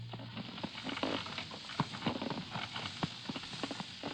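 Hooves of a donkey pulling a cart on the outskirts of a village clip-clop in a quick, uneven patter, moderately close, with a soft rumble of wheels and no speech.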